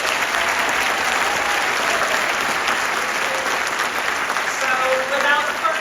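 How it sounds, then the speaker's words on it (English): Sustained, dense applause from a large lecture audience greeting the host, Geoffrey Hinton, a Nobel laureate, steady and loud throughout with a faint crowd murmur underneath. "let's give a warm round of applause for your host, Geoffrey Hinton"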